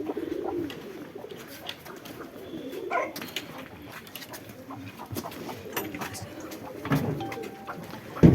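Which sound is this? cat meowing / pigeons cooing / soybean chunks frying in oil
pigeons cooing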